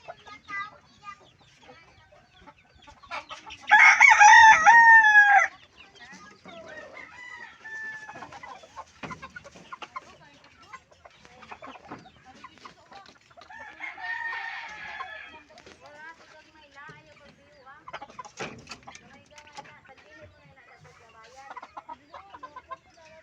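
Chickens cluck around a house, with one rooster's loud crow standing out early and further clucks and bird calls scattered through the rest of the clip.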